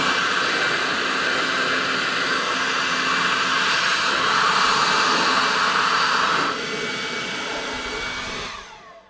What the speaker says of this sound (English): So this will be my quick demo on this eWork blower.